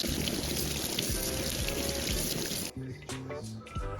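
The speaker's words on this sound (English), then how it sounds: "Pull out the filter and rinse it with running water." Water pours and splashes steadily for several seconds as a De'Longhi Magnifica Evo coffee machine filter is rinsed under running water, then cuts to a quieter, uneven trickle near the end.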